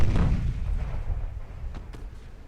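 Naval gunfire from warships in the Ultimate Admiral: Dreadnoughts naval battle game, a heavy booming salvo at the start that rolls off into a low rumble, with a couple of faint sharp cracks later on.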